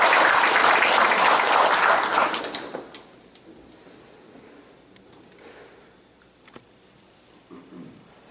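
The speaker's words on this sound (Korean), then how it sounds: "큰 박수 부탁드리겠습니다." Loud applause from an audience at a chamber of commerce breakfast meeting in Gumi fills the first few seconds, then fades quickly into a quiet room with faint scattered noises.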